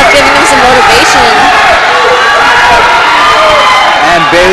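A crowd cheers and shouts throughout a high school wrestling match between Los Banos and Pacheco, a steady loud roar of voices with a commentator talking over it.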